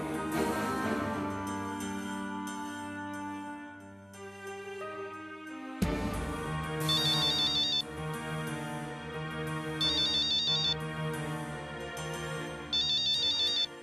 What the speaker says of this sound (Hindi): पूर्वी, तुम्हारा फोन है।